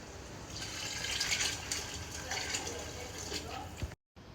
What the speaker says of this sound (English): It's time to put in the water.